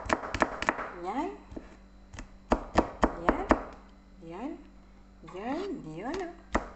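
A knife chops garlic on a cutting board while green beans with pork belly are prepared, giving sharp rapid taps in uneven bursts, close and crisp, with someone talking over the chopping.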